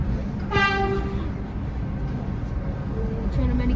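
Subway train passing at a station during a holiday run of the vintage Train of Many Colors alongside an R142, with a loud horn blast near the start over a constant rumble and screech of wheels, plus a shorter tone near the end.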